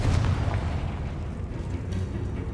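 A Confringo blasting spell goes off in Hogwarts Legacy, giving a sustained low rumbling boom that is loud at the start and then rolls on at an even level, with no talk over it.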